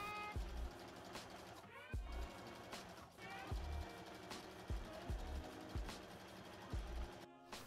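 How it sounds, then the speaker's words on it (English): A sewing machine stitches swimsuit fabric in repeated short bursts, each run a quick mechanical whir with a low thump at the start, separated by brief pauses, close by. "And then I'm going to sew all the way around the bottom."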